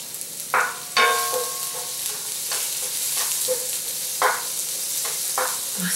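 Bay leaves, cloves, onions and cauliflower fry in a pan with a loud, steady hiss, broken by several sharp stirring scrapes and clatters, heard up close.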